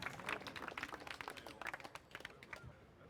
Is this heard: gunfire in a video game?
no